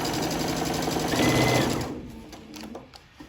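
A sewing machine runs steadily while stitching a quilt panel, a close, even mechanical whir that stops after about two seconds, leaving a few faint clicks and handling sounds.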